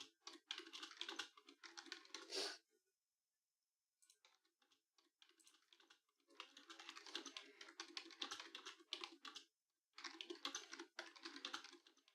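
A clicky computer keyboard is typed on in short bursts of rapid, crisp key clacks, close and fairly quiet, with pauses of silence between runs.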